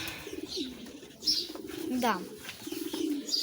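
A pigeon coos in several soft, low, rolling calls close by, with a brief voice speaking quietly over it.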